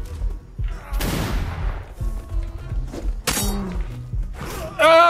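Gunshots fired at a bear in the video game Atlas, several sharp cracks and bursts scattered among rumbling game noise, with a brief voice at the very end.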